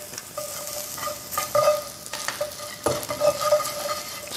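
Garlic sizzling and being stirred in a hot pan at the start of cooking beef fried flat rice noodles, with steady frying hiss and occasional scraping stirs, close and alone without talk.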